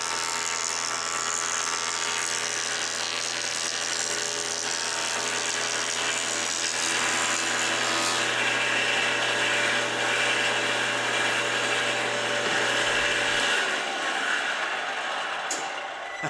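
A wood jointer planing a maple guitar top, a loud, sustained high whine and cutting roar running continuously for about thirteen seconds before the motor cuts out and winds down; no talking.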